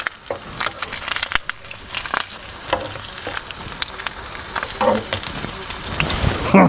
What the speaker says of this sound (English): So today we're having a fry up. We're having bacon grill and fried egg sandwiches.